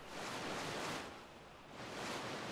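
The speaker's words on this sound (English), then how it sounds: "I enjoy the little water floosh that you can do." A broad watery whoosh swells, fades and swells again as a manta ray in ARK: Survival Evolved moves through the ocean, a soft, steady rush with no voices.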